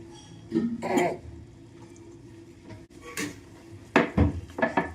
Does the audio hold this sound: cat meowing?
no